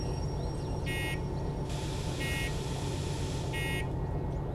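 In the Derail Valley train simulator, a beeping alarm sounds in three evenly spaced bursts of rapid electronic beeps over a steady low rumble of a locomotive.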